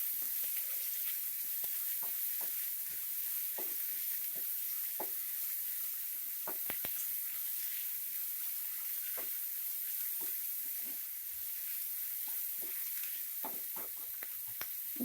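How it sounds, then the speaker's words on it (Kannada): Sliced onions frying toward light golden for a drumstick-leaf egg bhurji, a soft continuous sizzle broken by scattered scraping stirs, close by with no talking. "ಅಲ್ಲಿ ಗಂಟ ಈರುಳ್ಳಿನ ಫ್ರೈ ಮಾಡ್ಕೊಬೇಕು"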